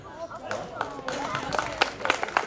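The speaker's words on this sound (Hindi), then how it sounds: "कई बुजुर्गों ने तालियां बजाई हैं।" Scattered applause from elderly audience members at a Hindi poetry gathering (kavi sammelan), a few distinct claps rising over a speaking voice and crowd murmur.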